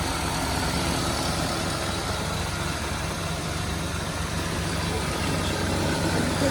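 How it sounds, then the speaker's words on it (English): A 1985 Pontiac Grand Prix engine idles quietly with a steady, even rumble and no changes in pitch, close by and continuous throughout. "Engine seems quiet."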